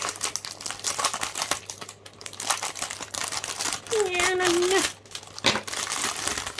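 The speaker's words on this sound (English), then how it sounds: "Cut away the plastic." Crinkling, rustling plastic packaging around an orchid being cut with scissors and handled up close, with a brief high squeaky tone partway through and some background noise.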